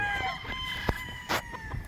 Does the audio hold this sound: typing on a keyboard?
no